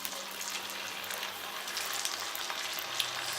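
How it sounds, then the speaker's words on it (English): Veg Manchurian balls fry in hot oil with a steady, dense sizzle and bubbling close by, and a small pop near the end. "And let's fry the next batch of Manchurian."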